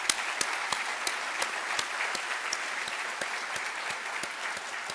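A round of applause for volunteer staff at a medical school white coat ceremony, dense steady clapping from a large audience with sharp individual claps standing out, sustained throughout at moderate volume.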